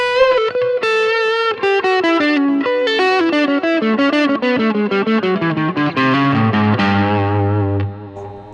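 An electric guitar plays a descending run through an E.W.S. Brute Drive distortion pedal with the treble turned up, a bright, biting tone, notes ringing sharply one after another before a sustained low chord.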